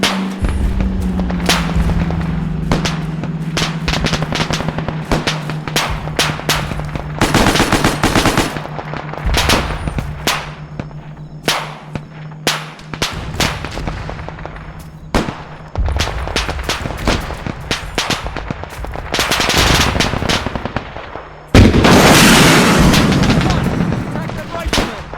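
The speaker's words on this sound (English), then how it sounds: "No, that's a mortar." Weapons fire in the video game Arma 3 set in the WW2 Pacific Solomon Islands campaign, with rapid machine-gun bursts, heavier booming blasts and a low steady engine-like drone, loud and close throughout.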